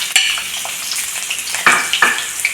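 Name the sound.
sliced onions frying in oil in a pan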